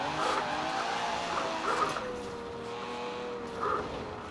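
An Aston Martin Superleggera drifts in Forza Horizon 4, its engine holding a steady drone with tire squeal and brief revving swells, continuous and fairly loud with no talking.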